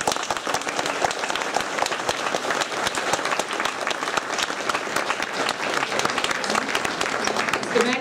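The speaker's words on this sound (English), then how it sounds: "a round of applause" An audience at an elementary school sixth-grade graduation ceremony applauds a teacher, dense steady clapping from many hands that holds at an even level throughout, with no voices standing out.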